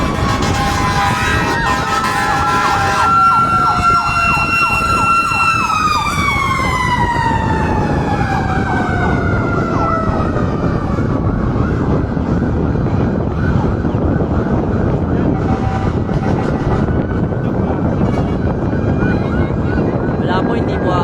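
Fire truck sirens wail loudly and continuously at a fire in Tondo, Manila, one siren sweeping down in pitch over a constant roar of wind and street noise.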